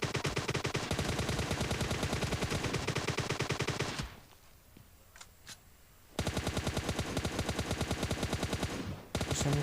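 Groza assault rifle fire in PUBG Mobile Lite, loud rapid automatic bursts repeating densely, broken by a few seconds of quieter ambience with faint shots before the firing resumes and continues to the end.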